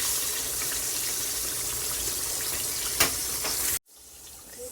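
Green tomatoes fry in a pan with a steady, hissing sizzle of hot oil, loud and close, with one brief crackle before the sound cuts off abruptly near the end.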